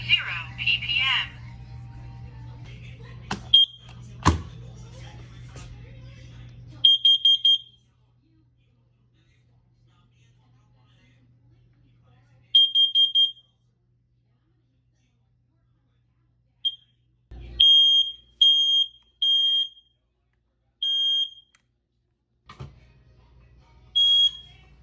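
A home smoke alarm under test gives short bursts of high, piercing beeps, some single and some in quick runs, separated by long silent gaps, with a low hum and brief handling noises near the start.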